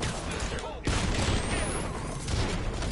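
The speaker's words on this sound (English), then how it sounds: "That's a big explosion." Gunfire and explosions in an action video game, a dense, loud wash of blasts and rumbling booms with a sharp hit about a second in, continuous battle noise throughout.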